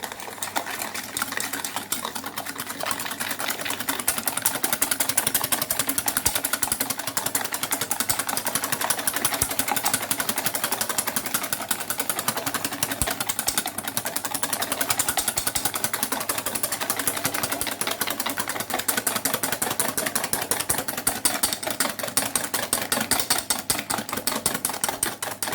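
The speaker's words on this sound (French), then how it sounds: "tu viens blanchir tes œufs avec le sucre." An electric mixer whips eggs with sugar for a caramelized apple cake batter, a steady close buzzing whir running continuously without pause, no talking over it.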